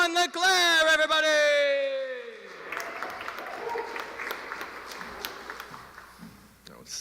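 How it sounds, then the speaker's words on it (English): Applause from a poetry festival audience rising after a person's sustained sung or called-out tone, scattered claps that grow into a moderate round, heard from within the room. "I want you all to please put your hands together. Oh, nice, round, loud applause."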